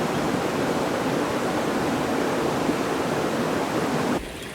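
Steady, broad rushing of a flowing rainforest creek in the Bornean jungle on a very warm day, close and continuous, cutting off abruptly near the end.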